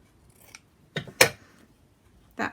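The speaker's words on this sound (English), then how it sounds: "Now I'm going to just trim" Scissors snip through paper in a few sharp, close cuts with pauses between them while a handmade tag book is trimmed by eye.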